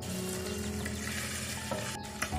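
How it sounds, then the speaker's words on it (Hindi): Sabudana tikki sizzling on a hot tava over low heat, a steady close frying hiss with faint stirring and a light clink near the end. "ये देखिए तवे पर सिक रही है टिक्की हमारी।"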